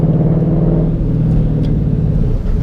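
A 2003 Ford Mustang Cobra engine held at a loud, steady low rumble with throttle applied, close up, with a deep continuous drone and no talk.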